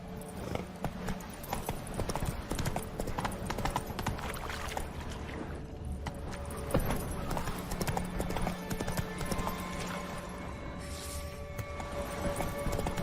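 Hooves of Roach, a horse in The Witcher 3, clip-clop in a steady rhythmic gait throughout, mixed with game ambience and occasional movement noise.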